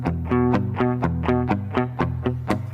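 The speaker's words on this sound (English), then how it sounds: "So lower values will give you a darker reverb sound." A rhythmic synth or guitar phrase repeats in even pulses, each note trailing into a dull, muffled reverb tail with the highs rolled off.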